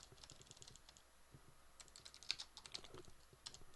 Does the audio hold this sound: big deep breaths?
no